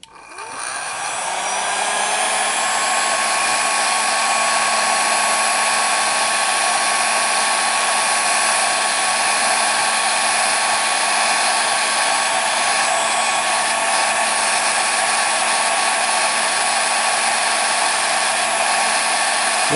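Hot-air tool blowing steadily to warm a metal blade used to lift photos from sticky album pages: a loud, continuous whooshing whine that spins up in the first second and then holds an even, close drone with no talking.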